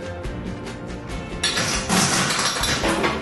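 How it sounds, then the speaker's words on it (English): Ice cubes clatter and clink as they are loaded into a cocktail glass, a dense run of rattling and tinkling that grows louder partway through, with no talk. "We're going to fill our glass all the way with ice."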